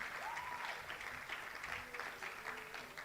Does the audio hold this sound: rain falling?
no